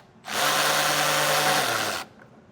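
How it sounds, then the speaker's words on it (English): A power tool with a 10mm socket spins out a bolt holding a 2023 Jeep's lower fascia, one close, loud burst of about two seconds that starts and stops abruptly. "I'll use a 10mm socket and get this removed."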